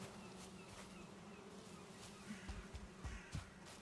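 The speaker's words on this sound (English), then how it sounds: "I'll definitely be coming back for bees, it looks like." Bees buzz near a forest in the video game Valheim, a faint continuous insect drone with a few soft thuds toward the end.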